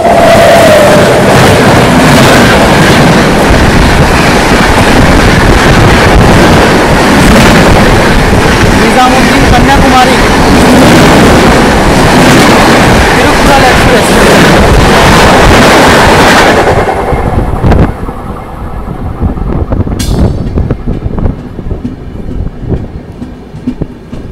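An oncoming train roars past a moving Chennai Rajdhani Express in foggy northern India, a loud, dense rush of rattling wagons for about seventeen seconds before cutting off abruptly to the quieter ride of the train.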